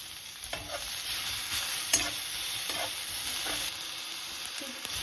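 Onions sizzle and fry steadily in hot oil with chopped garlic and ginger, a continuous bright crackle broken by several soft stirring scrapes, close and fairly loud with no talking.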